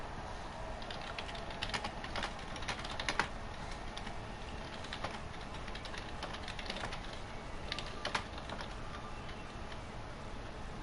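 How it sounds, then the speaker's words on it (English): Quiet, rapid keyboard clatter with irregular bursts of key presses over a faint background hiss, no voices. "if you can hear me typing"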